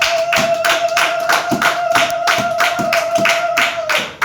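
A church congregation applauds to acclaim the word of God, steady rhythmic clapping filling the room for about four seconds over a faint sustained organ-like tone, with no talking.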